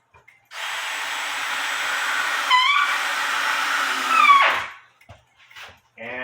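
A power drill drives screws through two stacked boards on a breakfast bar, a steady loud whir lasting several seconds with a brief pitch dip midway and a surge near the end before stopping, followed by a few small knocks.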